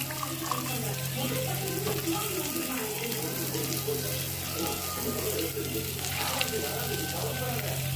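Crushed shallots and ginger sautéing in a pan for a village-style shallot and thuthuvalai rasam, giving a steady close sizzle and crackle throughout, with faint voices in the background.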